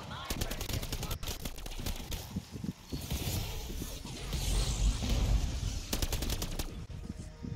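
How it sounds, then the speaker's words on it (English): A Wonder Gun in a zombies video game fires in dense, rapid bursts over continuous game noise and rumbling effects, with repeated sharp shots clustered near the start and again toward the end. "I got two shots left in the Wonder Gun"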